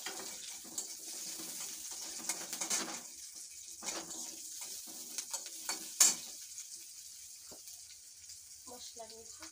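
Oil sizzling in a cooking pan, a soft crackling hiss that rises and falls with stirring scrapes and a sharp clink partway through, while a voice talks intermittently over it.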